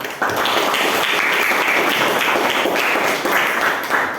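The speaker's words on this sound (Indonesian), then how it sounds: "Silakan tepuk tangan beri aplaus untuk kelompok 1" A classroom of students claps steadily for a student group after its presentation, dense continuous applause filling the room at close range from start to finish, with no talking over it.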